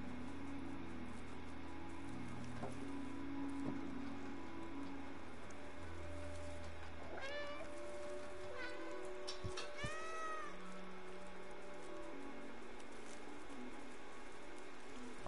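Player-controlled cat meowing in the video game Stray, a few short rising meows in the middle over steady game ambience and background music.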